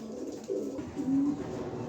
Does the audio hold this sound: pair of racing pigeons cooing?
yes